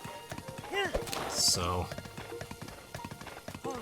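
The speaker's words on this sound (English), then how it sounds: "This is the first time I'm using the ancient horse gear to actually travel along the way." A horse wearing ancient horse gear gallops across the terrain in Zelda: Breath of the Wild, its hooves beating a steady rapid clip-clop. Someone speaks briefly over the hoofbeats, and a higher whinny-like cry cuts through midway.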